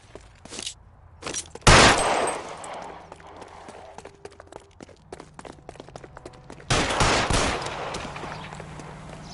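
Gunfire in L.A. Noire, a stream of rapid sharp cracks with two heavy loud blasts near the start and later, mixed with running footsteps, close and punchy.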